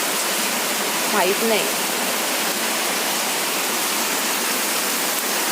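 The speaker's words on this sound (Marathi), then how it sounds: "धो पाऊस पडतोय" A heavy downpour over Nanded district fills the air with a dense, steady roar of rain that holds at an even, loud level throughout, with a brief voice speaking early on.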